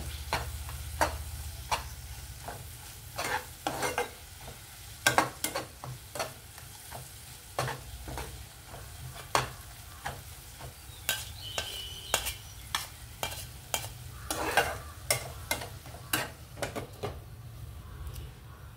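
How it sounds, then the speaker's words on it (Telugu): Ivy gourd (dondakaya) curry with cumin-chili spice stir-fried in a pan, a steady sizzle broken by regular scraping strokes of a spatula, close and alone with no talk. "ఇది కలర్ చేంజ్ అయ్యే వరకు వేగించుకోవాలండి."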